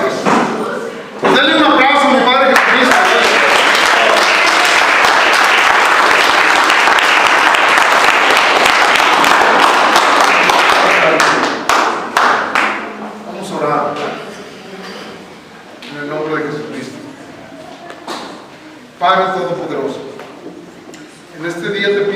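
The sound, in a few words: congregation applause in church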